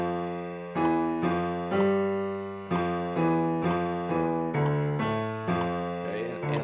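A slow piano phrase at about 60 beats per minute, single notes and chords struck one at a time with even spacing, each ringing and fading before the next, alone with no talk.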